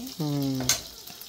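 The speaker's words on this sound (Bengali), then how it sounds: "এটা হচ্ছে আমার কাঁচা টমেটো ভাজি" Green tomatoes frying in a pan in a home kitchen give a steady, close sizzle, with a short voice rising over the hiss partway through.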